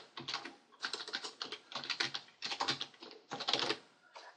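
Someone types a web address on a computer keyboard in quick bursts of clicking keystrokes separated by brief pauses, close and clear with no talking.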